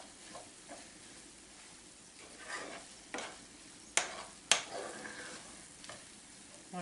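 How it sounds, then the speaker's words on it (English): Corn fries in melted margarine in a pan, a soft steady sizzle broken by several scraping stirs and a couple of sharp clacks of a utensil against the pan, fairly quiet and close. "it's going to start frying"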